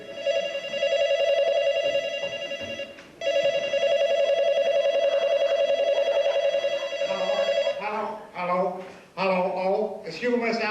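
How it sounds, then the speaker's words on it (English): An old-style telephone bell rings in a long continuous burst, briefly pauses, rings again, then a voice starts speaking. "Trigger Mortis is answering the phone"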